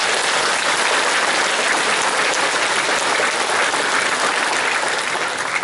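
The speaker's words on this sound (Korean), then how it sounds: "제가 이 연설 과정에 다시 한번 박수를 보내야 될 것 같아서 박수 부탁드립니다" A large audience at a Korean relocation ceremony for Korea Electric Power Technology in Gimcheon Innovation City applauds loudly, a dense, sustained roar of clapping that stays steady throughout with no talk on top.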